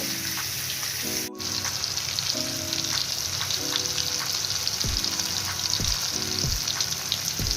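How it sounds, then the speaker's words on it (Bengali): Ten pieces of hilsa fish fry in hot oil, a loud continuous crackling sizzle with scattered pops and several low tonal clunks of the pan or utensil, no talking. "এখানে আমি 10 টুকরা ইলিশ মাছের টুকরা নিয়েছি। সবগুলোকে আমি ভেজে নেব।"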